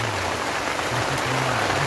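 Steady rain falls outdoors near a bathing spot at night, a dense continuous hiss of drops with a faint low hum underneath, constant throughout.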